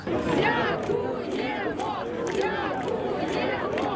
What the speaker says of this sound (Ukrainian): Автобус з бійцями повертає під шалені оплески